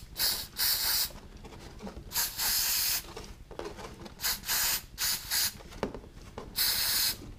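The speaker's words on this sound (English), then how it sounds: "I'm going to hit them with a little bit of an electric terminal cleaner." Electric terminal cleaner is sprayed from an aerosol can onto power antenna parts of a 1987 Buick Grand National during a repair, in loud close hissing bursts of varying length separated by short pauses, with no voices.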